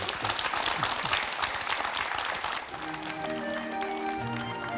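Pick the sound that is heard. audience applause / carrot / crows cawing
audience applause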